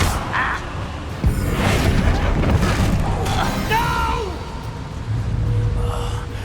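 A fire spell cast in Hogwarts Legacy inside a mine: a loud burst and crackling whoosh around the first second, followed by sustained rumbling effects with a few rising tonal swirls, layered under voices.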